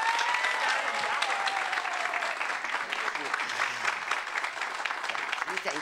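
Sustained applause from a children's theater audience at an evening event, dense and steady throughout with a speaking voice briefly audible over the clapping.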